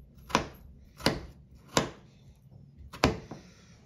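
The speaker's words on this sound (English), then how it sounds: "put them up against the potatoes, and then chop" A kitchen knife chops through potatoes for waffle fries: four sharp, close knocks on a cutting board at a steady pace, with no talking.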